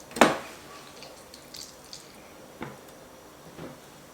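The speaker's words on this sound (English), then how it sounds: "Just squeeze out the water," A marinade ingredient is squeezed by hand, giving one sharp wet squelch followed by a few soft, faint drips and squishes close by.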